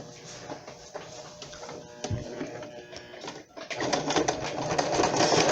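A sewing machine stitching a zigzag seam on a blanket with sleeves, a rapid mechanical whirring and clatter that starts in short bursts and builds to a louder, continuous run near the end.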